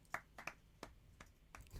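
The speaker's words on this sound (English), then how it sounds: "Like 4 people applauding." A handful of people clap briefly, a few spaced sharp claps rather than full applause, faint and fairly close.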